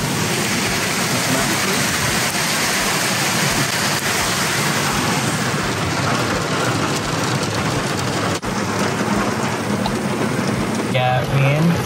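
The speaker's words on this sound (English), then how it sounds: "Continuing to shoot even though it's about to break up into a funky storm and rain." Rain pours down in Uganda as a storm breaks, a steady, loud wash of hiss that fills the whole stretch without a break, with a brief bit of other sound near the end.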